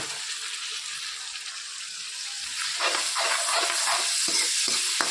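A spoon scrapes and stirs a wet mixture in a pan, with soft sizzling underneath; the scraping strokes grow louder and more frequent toward the end.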